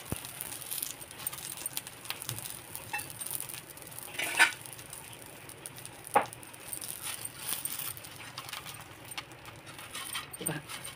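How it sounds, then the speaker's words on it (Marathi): Dabeli buns toasting in butter in a pan, a soft steady sizzle with occasional clinks and scrapes of a utensil against the pan. "कडक असं बटर लावून घ्यायचा, भाजून घ्यायचा छान असं."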